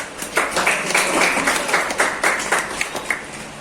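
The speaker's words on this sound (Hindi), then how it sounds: "इन भाई के लिए हम लोग ताली बजाकर हम लोग" A church congregation claps for a guest brother at a fifth anniversary gathering; steady, moderately loud applause from a small audience keeps going through the whole moment with no voice over it.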